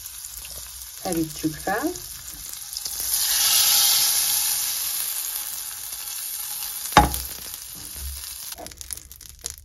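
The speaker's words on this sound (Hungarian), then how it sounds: "Egy serpenyőbe először pirítsuk le a diónkat, egy teáskanálnyi vajat dobjunk ebbe a meleg serpenyőbe." Walnuts toasting with a teaspoon of butter in a hot frying pan give a steady sizzle and hiss, with stirring and a sharp knock partway through and a brief spoken phrase.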